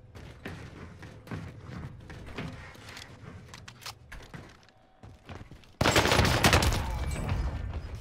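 Gunfire in a keyboard-versus-controller video game comes as scattered thumps and shots, ending in a dense, loud burst of rapid fire over the last couple of seconds.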